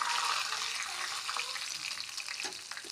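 Cumin, pepper and crushed garlic sizzling in hot oil for a tempering, a close, steady frying hiss with faint stirring scrapes and no talk.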